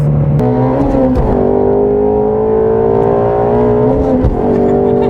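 Ford Mustang GT350 accelerating hard and shifting into fourth gear gives a loud, continuous engine roar whose pitch climbs steadily, with a brief dip at the shift, close and alone.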